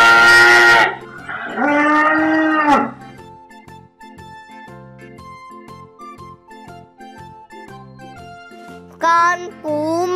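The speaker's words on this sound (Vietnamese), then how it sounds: "Con bò sữa." A dairy cow lets out two loud, drawn-out moos up close, followed by a stretch of gentle tune and a couple of shorter bellows at the end.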